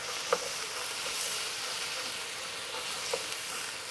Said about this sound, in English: You want to add your oregano. Start giving it a stir.